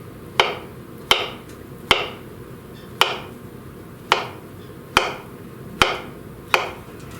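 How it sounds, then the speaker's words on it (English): Knife slicing a banana on a cutting board, nine evenly spaced sharp taps as the blade hits the board, close and clear with no talking. "We're just gonna slice our banana in slices here."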